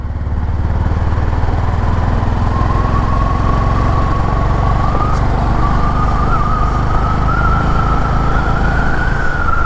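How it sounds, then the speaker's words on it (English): A Honda Highness CB 350 motorcycle carrying two riders accelerates in fourth gear with the throttle opened. It makes a loud, close, steady engine drone whose pitch climbs gradually as speed builds, along with constant wind and road rumble. "I'm just going to open the throttle and see how it goes."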